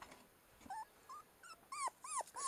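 A small puppy whimpers nearby in short, high, rising whines, several in quick succession, fairly faint over a quiet room.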